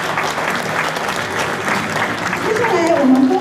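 Audience applause at a flag-presenting ceremony for an indigenous sports meet in Kaohsiung, a dense steady clapping from a crowd that swells near the end as a voice begins speaking over it.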